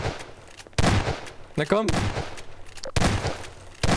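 Sharp bursts of gunfire in the video game Garry's Mod Prop Hunt crack in quick succession, a few shots at a time, with someone speaking briefly in German between them.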